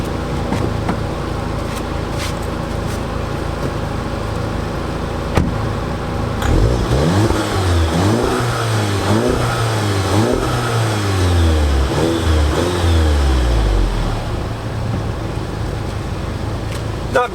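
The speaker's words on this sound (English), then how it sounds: "that's your GTi exhaust sound" A 2016 Volkswagen GTi idles, then its exhaust is revved repeatedly, several rising and falling throaty blips in quick succession before settling back to idle, heard up close with a voice talking briefly.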